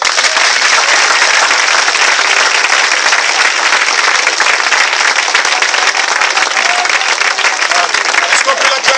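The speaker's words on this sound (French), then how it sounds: "Est-ce qu'on peut l'acclamer?" A worship congregation applauds and cheers for Jesus in a continuous, dense wave of clapping and crowd noise that stays loud and steady throughout, with voices mixed into the roar.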